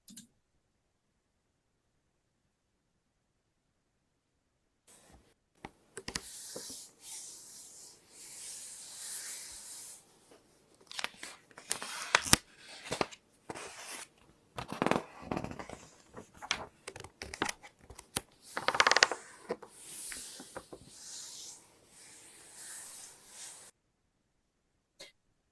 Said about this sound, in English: So crinkling whispers is what's going to be played right now.